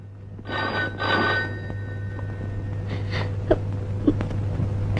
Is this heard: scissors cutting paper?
no